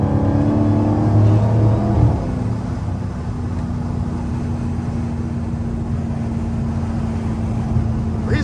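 The 707-horsepower engine of a Dodge SRT Hellcat roars under steady driving, a loud continuous low drone that eases after a brief surge, with road and wind noise from inside the car.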